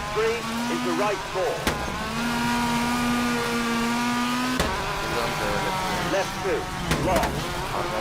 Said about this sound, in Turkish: şöyle bir el freni çekerek dönelim